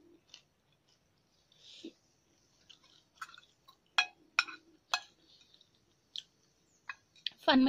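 Someone eats Thai glass noodle salad (yum woon sen), with sparse, close, wet chewing and clicking sounds coming in uneven bursts with quiet gaps between them.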